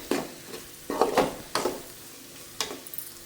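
Onion and tomato masala with spices fries in a pan while a spoon stirs it in several distinct scraping strokes spaced about half a second apart, over a low steady sizzle, with no talking.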